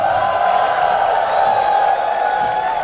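A live esports arena crowd at an ESL One Dota 2 playoff event roars and cheers for Tundra, a loud sustained wash of voices and whoops without pause.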